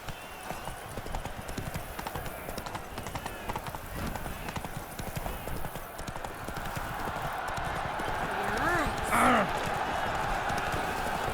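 Geralt's horse Roach gallops through Toussaint in The Witcher 3: Blood and Wine, with rapid rhythmic hoofbeats throughout, a brief whinny near the end, and a voice speaking over it.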